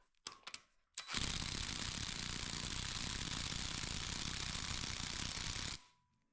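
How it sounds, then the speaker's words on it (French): A ratchet or power tool runs continuously for several seconds tightening a bolt to torque on a Volkswagen Golf 2 engine during a radiator refit, a harsh steady buzzing whir after a few short clicks, fairly close. "il faut serrer ça au couple"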